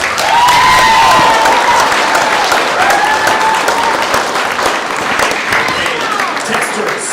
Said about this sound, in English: let's give our testers another big round of applause